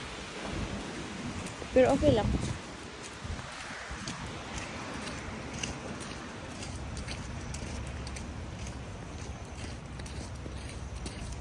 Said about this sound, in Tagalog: See, mahangin.